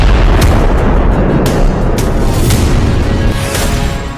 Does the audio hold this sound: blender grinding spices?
no